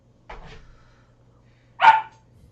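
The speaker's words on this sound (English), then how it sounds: "Oh my god, dog!" A dog barks indoors, first a short muffled woof and then one loud, sharp bark close by, with quiet pauses around them.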